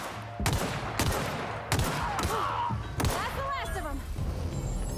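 Loud individual gunshots from The Outer Worlds, five sharp cracks spaced about a second apart over a rumbling background, with a voice speaking between the shots.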